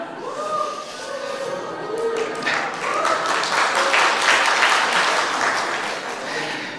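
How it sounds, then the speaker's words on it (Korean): A church congregation at a Sunday afternoon service breaks into applause. Someone speaks at first, then clapping swells to a full, steady round from many hands and begins tapering near the end. "이게 이렇게 박수 받을 일인지는 몰랐습니다."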